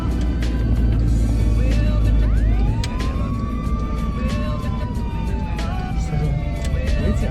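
A police car siren in Croatia, en route to Vukovar, wails in a long rising and falling tone over heavy road rumbling from inside a moving vehicle, loud and continuous for several seconds.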